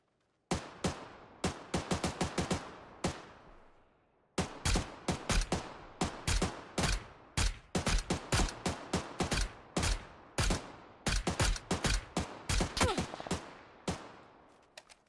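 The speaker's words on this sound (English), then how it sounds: "Why are they shooting me?" Rapid bursts of gunfire in the PUBG battle royale game, many sharp loud shots in quick clusters with a brief pause near the start, continuing steadily throughout.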